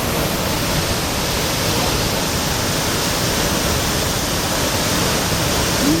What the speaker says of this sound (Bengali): নীলচে ওয়াটারফল